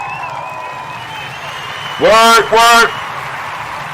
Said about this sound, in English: we want to give all the Kuji born, all the Kuji babies a round of applause